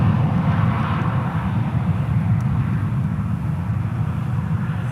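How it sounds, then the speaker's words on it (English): An airliner leaves DFW Airport for Denver with a steady, moderately loud low engine rumble at some distance, continuous throughout and free of talk. "That flight right there going to Denver off it goes"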